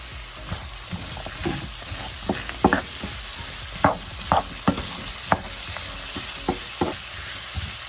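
Vegetables being stirred and fried in a hot pan over medium heat, a steady sizzle broken by repeated scraping clacks of the utensil at an uneven rhythm, close and alone.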